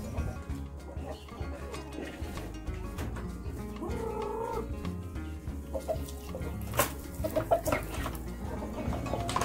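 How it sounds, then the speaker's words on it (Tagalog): Chickens cluck and murmur nearby, with a rooster-like call and scattered bird noises over a busy farmyard background. "samahan niyo akong magpakain ng mga manok"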